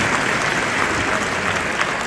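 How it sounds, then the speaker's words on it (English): A crowd at a US citizenship oath ceremony in a Lawrence, Massachusetts field office gives a short burst of loud, close, continuous clapping lasting about two seconds. "Clap it up for my people, come on."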